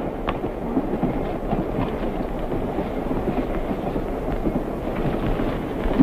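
A train rolls along railroad tracks, heard as a steady, moderately loud rumble with faint clattering throughout and no voices.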